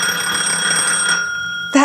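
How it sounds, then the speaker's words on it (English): A telephone rings with a steady bright electronic bell tone, loud and close, holding for about a second before cutting off, followed by a brief soft knock. "That phone is ringing again from the circle?"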